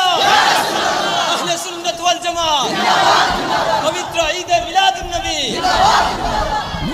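A large crowd at a Sunni religious gathering roars back in unison to a Nara-e-Takbir slogan call, with loud, rising chant waves repeating several times over a steady crowd din.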